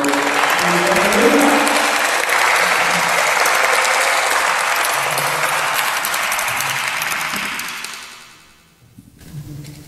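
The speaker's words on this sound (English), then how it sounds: "So, big round of applause for" Sustained, dense audience applause at a commemorative human rights event in Washington, D.C. holds steady for about eight seconds, then dies away into near quiet with faint room sound.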